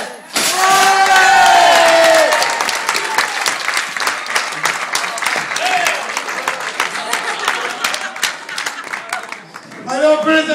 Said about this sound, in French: Allez, on peut les applaudir très très fort, les cow-boys.